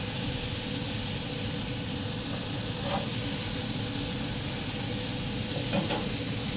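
Bacon cheeseburger slider patties sear on a BBQ grill with a loud, dense, unbroken sizzle and hiss, close up, and a few faint clicks over the steady frying.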